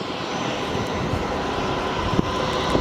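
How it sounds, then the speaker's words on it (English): JetStar Airbus A320 on final approach at Melbourne Airport, a steady broad engine rumble and whine, fairly close and continuous, with no talking. "And we've got another JetStar A320 on final"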